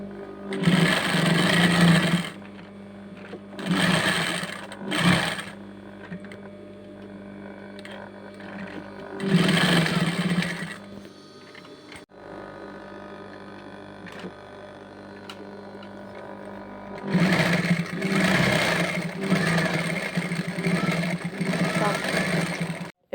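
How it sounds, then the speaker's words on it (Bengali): A sewing machine stitching a waistband onto a girl's dress runs in loud bursts of rapid mechanical whirring, several short runs then a longer one, with quieter pauses between where a voice talks over faint hum. "দেখেন পুরাটা জামা এভাবে শেষ করে ফেলছি সেলাই করে।"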